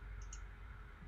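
A computer mouse gives a couple of faint, quick clicks close by, very quiet and brief against a low background hum.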